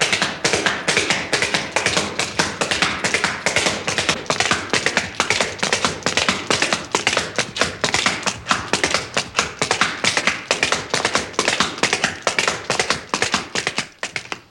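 Two Appalachian mountain men clog dancing together, their shoes beating out rapid, steady tapping rhythms on a hard floor, loud and close with dense percussive clatter throughout and no talking.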